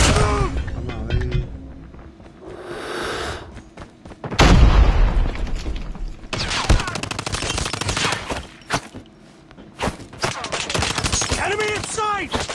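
A grenade explodes with a heavy booming burst partway through a match of the video game Bailout: Cyber Maneki, set among rapid bursts of gunfire and occasional voices.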